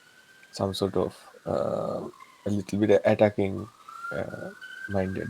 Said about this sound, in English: you can hear a little bit of ambulance in the background,